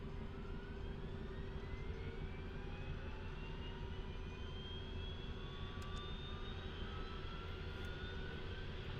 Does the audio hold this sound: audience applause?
no